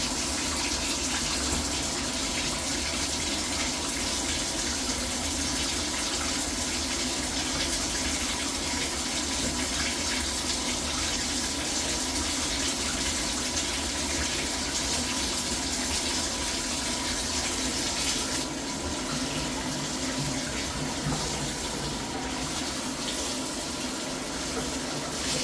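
Hot water gushes steadily from a tap and pours down a clogged drain, a loud continuous rush with no letup.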